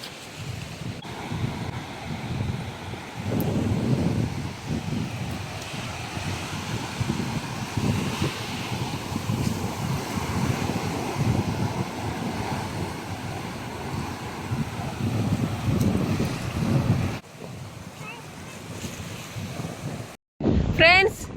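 Sea waves and wind on a seashore during a fishing outing, a continuous rushing roar with gusty microphone buffeting, fairly loud and close, broken by a brief dropout near the end.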